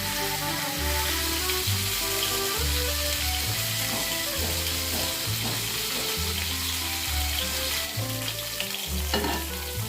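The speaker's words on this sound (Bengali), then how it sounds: "মাছগুলো ফ্রাই হয়ে গেছে, এবার আমি তুলে নেবো।" Katla fish fry in hot oil with a steady, loud sizzle throughout, interrupted by stirring and lifting sounds as pieces come out of the pan, with no one speaking.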